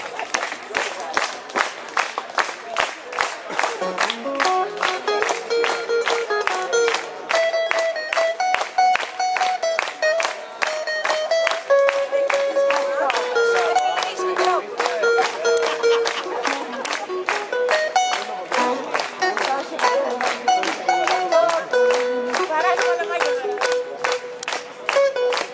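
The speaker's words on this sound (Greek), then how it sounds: "Παλαμάκια, έλα." Live concert audience clapping along steadily in rhythm to a Greek song, sharp claps evenly spaced throughout over a melodic instrumental solo.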